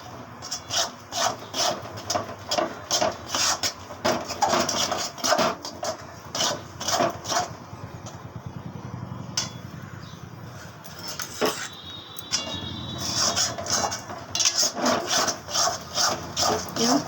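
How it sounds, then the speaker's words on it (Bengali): Repeated rhythmic scraping of a utensil stirring food in a cooking pan, steady strokes at close range, fairly soft, with a brief hissing stretch midway and no talking. "এবং ক্রমাগত নাড়তে থাকবেন।"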